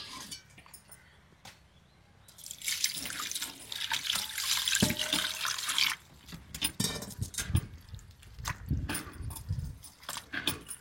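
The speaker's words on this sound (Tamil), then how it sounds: "இதை இப்போ ஊற வச்சுருவோம்" Tap water pours over tamarind to soak it for rasam, a strong rush of running water lasting a few seconds. It then gives way to close splashing and handling sounds in a bowl.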